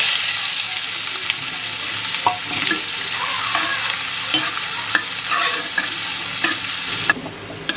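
Chopped onions sizzle in hot mustard oil over a tempering of cumin and asafoetida for chole, with the spoon scraping and clicking against the pan as the mixture is stirred, close up and steady throughout.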